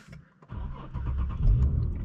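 An Infiniti G37S with its 3.7-litre V6 starts up after a push-button press: a brief starter whir catches into a low, steady idle, close and alone.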